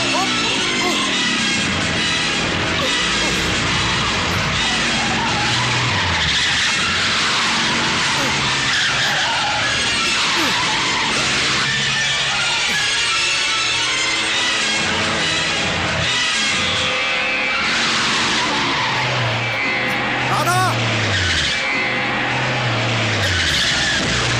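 A car skids loudly to a halt amid a dramatic film scene, tire screech and engine noise blending with swelling music and shouting voices over a sustained, dense mix.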